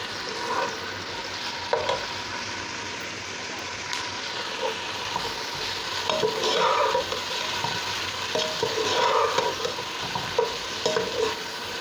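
Chopped tomatoes and green chillies frying in a pan for achari bhindi, a continuous close sizzle with repeated scraping and stirring strokes of a spatula that grow busier toward the end, no talking.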